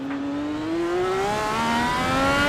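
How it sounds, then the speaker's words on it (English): An IndyCar race car engine at the Long Beach street circuit whines loudly and steadily, its pitch stepping through downshifts from second gear into first as the car brakes for a corner, with no talk over it. "First, second gear, now down to first."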